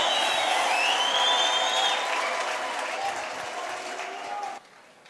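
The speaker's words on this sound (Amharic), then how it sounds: "ታላቅ እልልታ ጭብጨባ ምስጋና ክብር ለጌታ እናመጣለን" A church congregation bursts into sustained applause mixed with high, trilling ululation, loud and dense for several seconds before dropping away abruptly near the end.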